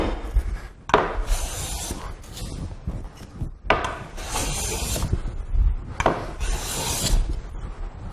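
A fine finishing tool rasps across a workpiece in a few long, steady strokes separated by short pauses, each a close, dry scraping rub.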